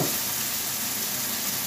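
Chicken thighs roasting in a pan with olives, Provençal style, give off a dense, even sizzle close by, a constant bright hiss with no talking over it.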